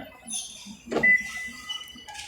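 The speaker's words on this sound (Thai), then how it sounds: "มันก็จะได้ยินเสียงบิ๊บหนึ่งครั้ง" The smart key lock of a 2023 Toyota Corolla Altis 1.6 G gives a single short beep right after a soft thump, close by in a quiet setting.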